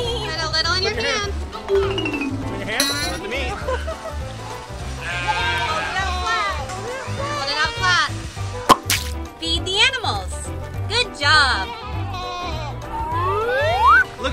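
Sheep at a petting farm bleat again and again, the nasal, wavering calls overlapping close by, while people talk and feed the animals.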